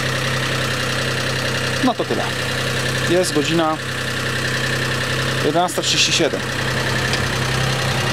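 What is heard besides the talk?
unmuffled cogeneration engine running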